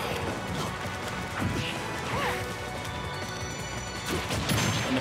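Forward smash hit from Cloud in a Super Smash Bros tournament match, a sharp crashing impact among busy game effects and crowd noise, with a commentator talking over it.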